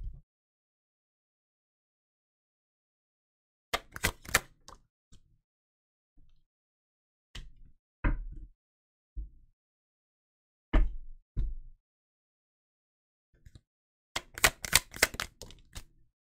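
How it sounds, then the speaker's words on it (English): Tarot cards are shuffled in sporadic bursts of crisp taps and riffles, separated by long silences, close by and fairly quiet. "I'm live shuffling today for you guys"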